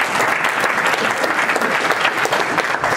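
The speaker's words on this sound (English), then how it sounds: "Stop clapping, you're using up my 4 minutes, okay?" Audience applause at a startup pitch event: dense, sustained clapping from a crowd that holds an even, lively level throughout, with no talk over it.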